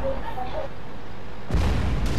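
A tank cannon fires in the online game World of Tanks during a clan battle, one heavy booming shot with a rumbling tail, following a stretch of quieter game ambience and background voices.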